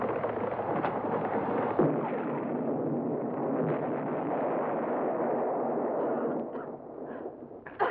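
A sustained, heavy rumbling roar with a sharp thump near the start and bursts toward the end, like distant blasting echoing in an enclosed cave, from a horror film.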